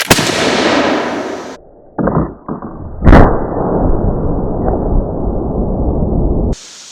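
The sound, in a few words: flintlock smoothbore gun firing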